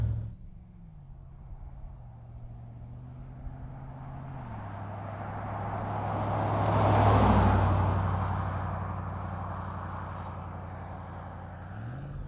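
A 1997 Range Rover P38 4.6 HSE V8 burbles as it drives, a steady low engine rumble whose pitch shifts as it changes speed, swelling as it passes closest before easing away, with no talking.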